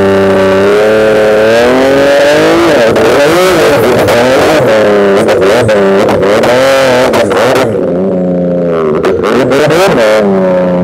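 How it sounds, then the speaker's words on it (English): A drag race car running on race fuel idles and revs loudly at close range, with a rough, lumpy engine note rising and falling in repeated blips throughout. "The race fuel doesn't like to start when she's cold, but you put a little propane in there."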